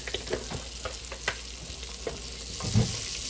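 A little cooking oil heats in a pan, hissing with a steady low sizzle under a few soft clicks and knocks of utensils, with a louder bump near the end.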